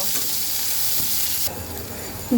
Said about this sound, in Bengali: পেঁয়াজটাকে আমি সুন্দর করে ভেজে নেব